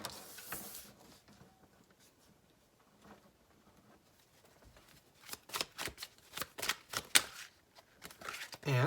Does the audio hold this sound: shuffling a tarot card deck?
yes